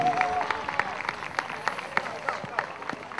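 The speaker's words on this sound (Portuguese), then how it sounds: "Olha as palmas" Rhythmic audience clapping at a barrel racing event, a steady series of claps spread across the crowd, moderately loud, with a voice talking underneath and a louder burst at the very end.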